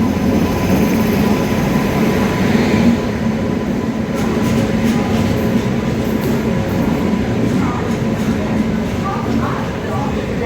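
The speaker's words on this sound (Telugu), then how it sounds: "మన ట్రైన్ అయితే వచ్చేసింది" Kerala SF Express, the Thiruvananthapuram to New Delhi train number 12625, arrives at a station with a loud, steady rumble and rolling clatter that fills the scene, while people talk nearby.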